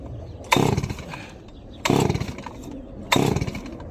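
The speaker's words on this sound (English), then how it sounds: "But it's been like 3 weeks since we started this saw. So we're gonna do the old pull." A Farm Mac F380W chainsaw is pull-started three times in a row. Each pull gives a loud, raspy engine burst that fades after about a second, and the bursts are evenly spaced with short quiet gaps between them.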